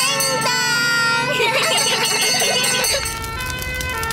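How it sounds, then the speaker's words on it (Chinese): A cartoon fire engine siren wails loudly with a steady, repeating tone through the first three seconds, over music and the bustle of a fire scene in an animated children's show, then gives way to a quieter musical ending. "系兔小姐嘅消防车"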